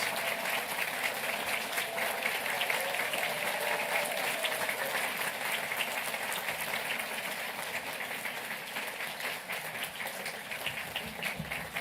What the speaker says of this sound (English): And I want to give you an incredible round of applause.